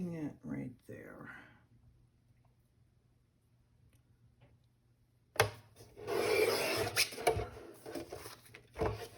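Paper being trimmed for a craft project, a short close rasping cut preceded by a voice, then a louder stretch of rough scraping and rubbing near the microphone.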